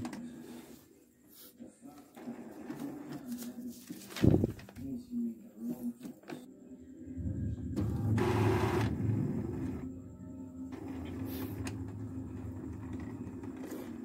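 An Epson L360 inkjet printer with a paper-feed fault starts up with whirring motors, mechanical clicks and clunks, then a longer buzzing carriage movement, with a few quiet background sounds.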